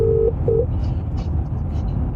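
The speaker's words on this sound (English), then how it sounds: "You're pressing buttons on the phone, putting me on hold." Two short, steady telephone keypad tones sound in quick succession at the start, over a constant low background hum, followed by faint noise.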